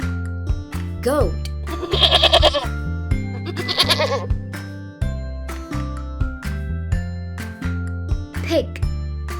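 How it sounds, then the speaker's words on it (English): Goat bleating in two loud, quavering calls over light background music and tinkling, with a voice speaking briefly before and after. "goat."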